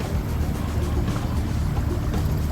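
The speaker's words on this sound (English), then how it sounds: "We the only one using the engine here." A small Gheenoe boat's outboard engine drones steadily and loudly, running on open water, with a constant low rumble and wash throughout and no voices.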